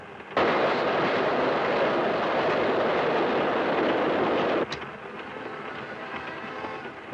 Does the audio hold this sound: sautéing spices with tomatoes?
no